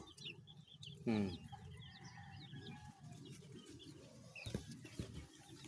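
Flock of laying hens clucking in a backyard coop, heard faint and at a slight distance, with a louder burst of calls early on and another flurry near the end over a steady low background.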